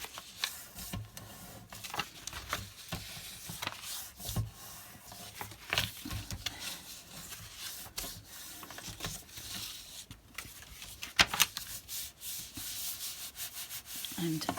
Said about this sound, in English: So let's fold and burnish those.